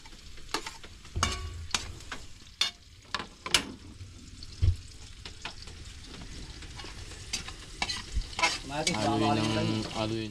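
Garlic frying in a pan, a close crackling sizzle broken by repeated sharp spatula scrapes and clinks against the metal, growing busier toward the end.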